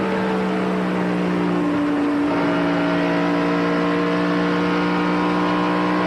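Engines of NASCAR stock cars on a racetrack drone steadily with sustained tonal whine that bends in pitch as cars pass, loud and continuous without speech.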